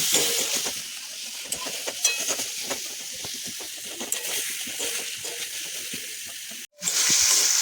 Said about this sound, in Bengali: এরপর আমি এই টমেটো কুচোগুলো মশলাটার মধ্যে আমি দিয়ে দেবো। দিয়ে একটু ভালো করে কষিয়ে নেব।